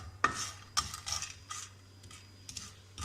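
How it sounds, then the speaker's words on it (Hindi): Whole cardamom pods dry-roasted in their skins in a pan before grinding into powder, with faint, sparse scrapes and rattling stirs, quiet and close, separated by short gaps. "इलायची को हमें अच्छी तरह भूनना है।"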